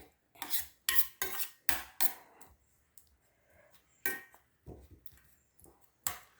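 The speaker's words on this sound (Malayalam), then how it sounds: "സ്പൂൺ വെച്ച് ചോറെടുത്ത് നല്ലതുപോലെ ഇങ്ങനെ ഒന്നുടച്ചാൽ മാത്രം മതി" A metal spoon mashes cooked rice in a bowl for baby porridge, a string of sharp clinks and scrapes against the dish in irregular bursts with short quiet gaps, close and clear.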